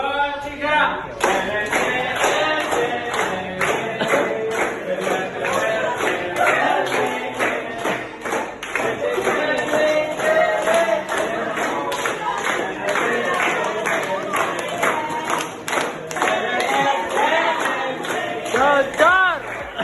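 A classroom of students claps hands together in a dense, rapid burst of sharp claps that carries on for about twenty seconds, loud and crowded, with some voices and shouts mixed in.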